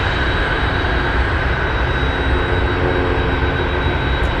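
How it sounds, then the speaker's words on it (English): A Boeing 747 touching down at Anchorage airport makes a loud, steady broadband roar that fills the whole stretch without a break, with a thin high whine running through it. "747, touching down"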